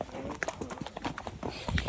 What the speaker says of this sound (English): Kyle, she looked like she cantered like a little rocking horse.